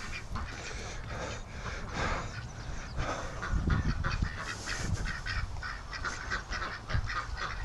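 Rouen ducks and geese on a farm honk and quack continuously, a busy flock close by, loud and overlapping throughout with no talk.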